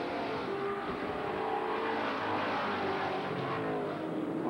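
American Sedan race cars at the SCCA Runoffs roar around the track in a steady, fairly distant engine drone that swells and fades slightly as cars pass, with no commentary audible.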